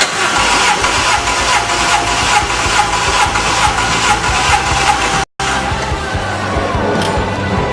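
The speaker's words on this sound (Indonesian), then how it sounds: "Diperlukan 1 orang untuk starter dan menekan pedal gas terus-menerus sesuai perintah orang kedua yang melakukan pengetesan atau pengujian kompresi." A car engine turned over by its starter during a compression test with the accelerator held down. The cranking is loud, steady and rhythmic, pauses with a brief cut, then resumes.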